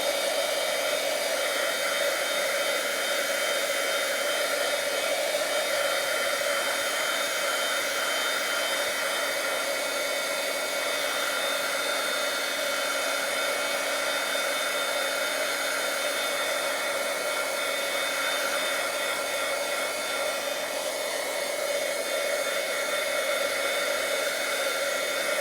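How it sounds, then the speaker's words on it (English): A handheld dryer blowing steadily on a wet paper craft surface during a card-making demonstration, a close, loud continuous whir that stays unchanged throughout with no talking. "I'll dry my wet surface a little bit too. I'm going to dry that so it's not soggy anymore."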